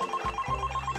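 A cartoon telephone rings in a dinosaur rescue animation, its electronic bell repeating in short, evenly spaced bursts over a low background hum, loud and close throughout.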